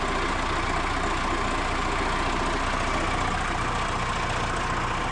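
A forklift engine idles steadily with a dense, continuous low rumble and mechanical drone, running with the park brake off during brake repair work, loud and unbroken with no talk.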